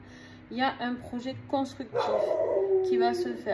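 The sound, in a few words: dog barking and howling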